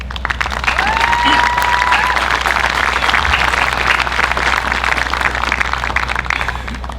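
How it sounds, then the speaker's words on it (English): An audience at an opening ceremony applauds loudly and steadily, a dense wash of clapping that carries on for several seconds. "So a big round of applause for all of them."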